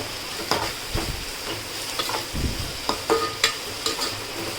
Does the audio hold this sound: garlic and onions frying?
yes